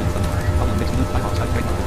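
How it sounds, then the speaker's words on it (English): Rain in an A330 flight simulator game, a steady dense hiss of falling drops over a low rumble, continuous and even throughout. "Oh, rain."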